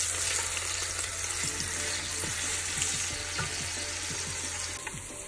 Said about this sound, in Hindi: और अब हम इस प्याज को फ्राई करेंगे।